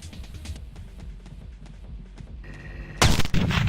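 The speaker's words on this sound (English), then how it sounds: "Okay, nail bomb." A nail bomb goes off in the video game Teleglitch: quiet game ambience and faint ticks, then one sudden loud, close blast near the end that rings on briefly.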